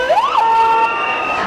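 An ambulance siren wails at a tense street protest at Piața Romană in Bucharest in 2012, a short, loud, nearby sweep that rises and then holds a piercing steady tone.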